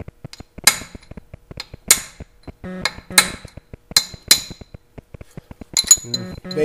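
Hammer tapping against the edges of a greasy front axle nut: a string of sharp metallic clinks in an uneven rhythm, loud and close, with no talking.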